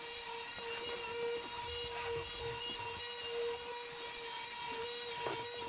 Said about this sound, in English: I'm just ripping down all the pieces and then cutting to size and length so I can make the carcass.